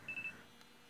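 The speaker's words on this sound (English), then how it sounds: "that was my alarm for my coffee time" Three short, quiet electronic beeps from an alarm set for coffee time sound in quick succession, followed by near silence.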